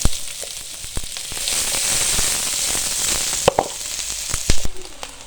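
Onions with red and green bell peppers stir-frying in hot oil, a steady bright sizzle with scattered scraping clicks and clacks of the spoon against the pan, close and moderately loud, without any talk.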